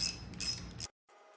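Ratchet wrench clicking as bolts are snugged down on a Ford 302 V8 engine, a close burst of rapid ratcheting clicks that stops abruptly, followed by a fainter mechanical tick.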